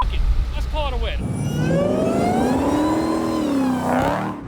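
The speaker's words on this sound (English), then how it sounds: "The supercharger is deafening, and I love it" A truck's supercharged engine revs up, its rising and falling whine sweeping in long tonal arcs over a throaty engine roar, close and loud, with a brief voice near the start.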